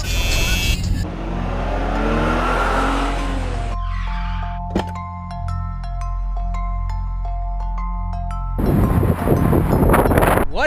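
Engine drone and road rumble fill the interior of a moving car, with wind buffeting and a few tonal beeps midway, steady and close throughout.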